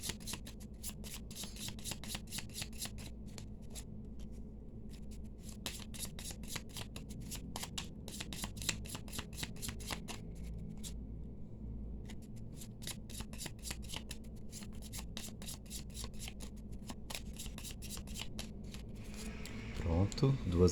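Cigano (Lenormand) deck cards are laid out in two rows on a surface: a long run of quick, crisp card snaps and slides in dense bursts with short pauses, close and steady over soft background noise.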